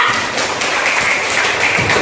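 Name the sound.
class applause for group 2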